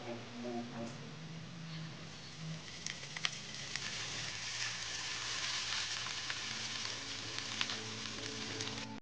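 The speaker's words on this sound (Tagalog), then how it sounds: "Lutuin po natin ng konti hanggang sa lumabas ang amoy ng parsley." Chopped garlic and parsley sizzle steadily in a hot pan, a continuous bright frying hiss with small crackles throughout, close and moderately loud, with faint voice-like murmurs underneath.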